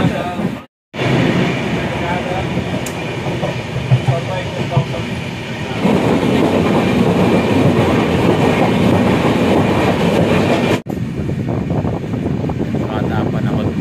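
The Mandavi Express rumbles and clatters as it slows near Apta station in the Konkan, a loud continuous rail roar with rhythmic wheel clicks, heard from inside the coach, with a brief dropout and people talking over it.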